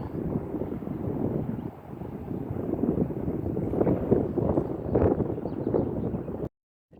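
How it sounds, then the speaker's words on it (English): Steady low wind rumbling and buffeting against the microphone outdoors in Fallon, Nevada, around 40 degrees with snow on the ground, a continuous blustery roar that cuts off abruptly near the end. "It's a cold wind blowing."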